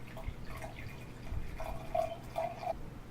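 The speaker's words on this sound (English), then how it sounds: "So I'm gonna pour me up a little bit." Matchbook wine pours into a glass with soft, faint trickling and a few light splashes, quiet and close, with no talking.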